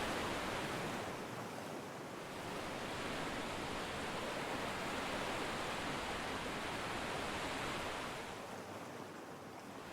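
Ocean surf roars as broad, continuous wash from waves breaking at a surf spot on Lipopett Island. The noise is steady and enveloping, swells slightly, and has no voices over it.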